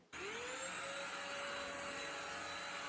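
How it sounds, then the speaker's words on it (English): A household vacuum cleaner switches on and settles into a loud, steady whine with a rising motor tone that then holds constant, close by with no talk. "alas, I have to go vacuum."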